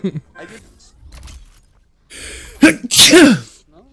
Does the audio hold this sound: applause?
no